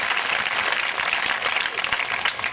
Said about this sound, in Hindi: जोरदार ताली बजाकर शाश्वत जी महाराज का स्वागत करें